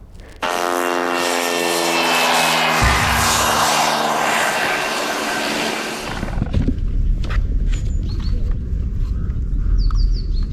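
An Autel Evo 2 Pro quadcopter drone spins up and lifts off, its rotors building a loud steady whine that cuts off after about six seconds, followed by lower rumble and faint chirps outdoors.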